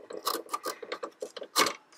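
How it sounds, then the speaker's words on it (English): A headlight bulb is twisted out of a 2008 Buick Enclave, giving a close series of scraping plastic clicks and ratcheting rubs, ending in a louder crunchy snap, with no talk. "And now to get the headlight bulb out, it has two little notches in the side. You gotta grab them and twist it."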